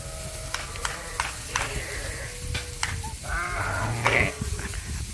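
Sheep rams bleating on a farm, several calls close by at irregular intervals, with stirring and shuffling movement between them.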